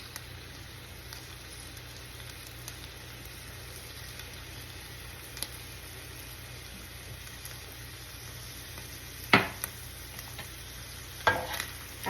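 Corn cooking in a pan for creamy cheese corn, seasoned with ground pepper, with a soft, steady sizzle and faint stirring scrapes, then two sharper utensil knocks near the end.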